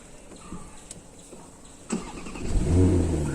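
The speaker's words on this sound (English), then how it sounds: "Today I am going to start the Porsche Panamera" A Porsche Panamera 4 10 Year Edition engine cranks and catches, roaring up into a loud rev after a brief quiet moment with a few clicks.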